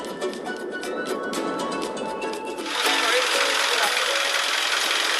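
An old jeepney, more than ten years old, climbs an unpaved mountain road in the Philippines. Its engine keeps up a fast, rattling mechanical chatter that turns louder and rougher about halfway through.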